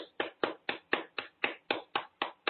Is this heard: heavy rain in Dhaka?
no